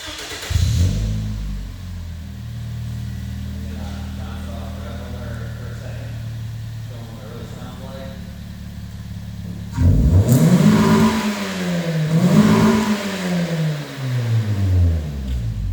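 A 2010 Toyota Yaris fitted with a custom Magnaflow exhaust idles steadily, then revs up loudly several times in rising and falling sweeps, close and alone.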